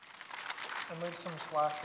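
Origami paper crinkles and crackles as it is folded, a papery rustle running throughout while a person talks over it.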